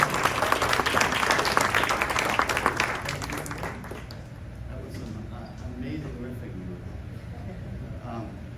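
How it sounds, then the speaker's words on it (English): An audience at a food-tech pitch competition summit in Chicago breaks into applause, dense clapping that is loudest for the first three seconds and then thins to a quieter, scattered patter. "let's give a warm round of applause for Phil."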